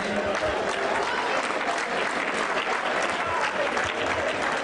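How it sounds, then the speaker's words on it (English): Crowd at a fight card event gives a nice round of applause, thick continuous clapping mixed with a low murmur of voices, loud and unbroken throughout. "let's give them a nice round of applause"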